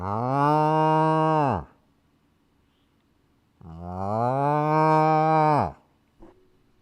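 A person imitates a cow with two long, loud, drawn-out moos separated by a quiet pause, followed by a brief soft knock at the end.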